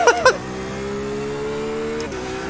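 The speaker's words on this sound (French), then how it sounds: "c'est un blocage de roue sur le premier virage" A wheel locking up on the first corner at Spa-Francorchamps in a sim racing game: after two brief bursts, a steady, sustained engine-and-tyre tone drones for about two seconds before cutting off.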